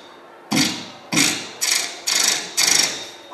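A voice imitates a brand new machine gun firing, five loud, close, harsh bursts at an even rhythm that sound mechanical and rattling.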